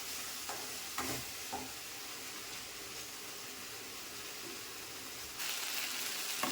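Curry leaves sautéing in a pan for chutney give a steady, soft sizzle and frying crackle with a few stirring clatters, moderately faint and close, with no talk.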